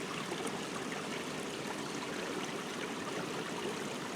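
Creek water flows steadily and close by, a continuous broadband rush with fine gurgling texture and no voices.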